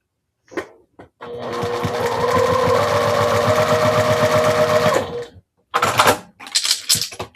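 Sewing machine stitching a straight quilting seam corner to corner, a close, loud, steady mechanical whir lasting about four seconds, framed by short clicks and handling noises before and after.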